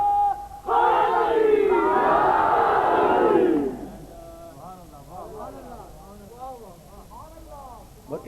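A large crowd at a religious gathering roars a slogan in unison, loud and sustained for a few seconds, then fades into a single voice speaking over quieter murmurs.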